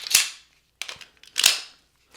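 Two sharp, close Walther PDP pistol shots with a further burst between them, each a loud crack that rings briefly before dying away, on an outdoor range with no talking.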